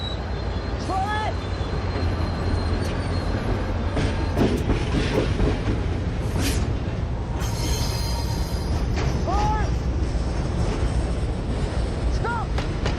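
Train rolling on rails, a steady loud rumble with repeated short wheel squeals and scattered metallic clanks throughout, no talking.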